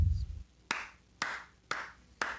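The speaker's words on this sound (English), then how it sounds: "Ladies and gentlemen, round of applause." Four slow, separate hand claps, evenly spaced and close, each ringing briefly before the next, after a short low rumble at the start.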